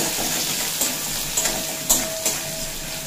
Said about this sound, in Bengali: জিরি জিরি করে কুচিয়ে রাখা পেঁয়াজ পেঁয়াজটা ভেজে নেব